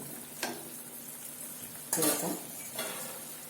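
Chopped potato tipped into a pan for cabbage sabji, with a few close clinks and scrapes of a utensil stirring against the pan over a faint sizzle.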